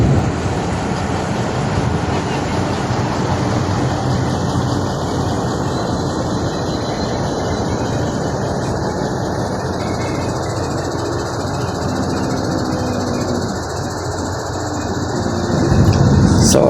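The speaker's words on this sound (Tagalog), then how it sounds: "So ang ingay po ng mga makina ng ating bus, yun po yung naririnig ninyo" A tour bus in Southwoods, Biñan, Laguna, heard from inside, with a constant loud engine drone and rattling cabin noise that holds steady, dips briefly near the end, then swells again as the engine works harder.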